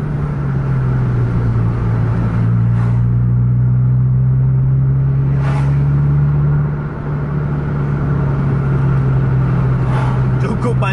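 A bus engine runs at full throttle while overtaking on a highway, a loud, steady, close drone with a deep rumble and a sustained low tone that climbs slightly.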